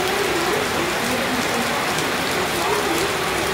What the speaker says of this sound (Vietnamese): Đang mưa rồi.